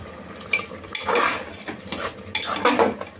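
Whole spices (cinnamon, cardamom, black pepper, cloves and two bay leaves) stirred in a pressure cooker for beef biryani, close metal scraping and clanking of a spoon against the pot in a few loud strokes over a light sizzle.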